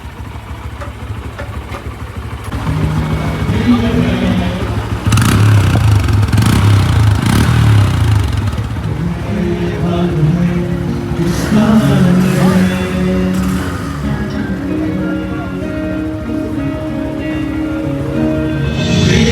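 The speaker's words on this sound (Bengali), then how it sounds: "এটা আমাদের নতুন 2025 মডেল হন্ডা 125 ওবিডি 2B" A new 2025 Honda CB125 motorcycle running at a dealership test-ride event, its mid-pitched engine idling steadily with a rise in revs partway through, close by over light background noise.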